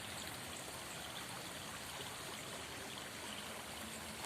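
A small, narrowed river stream beneath an old sugarcane railway bridge in Dawuhan, Purbalingga, flows with a steady, continuous wash of water, moderately close and unbroken, with no talk over it.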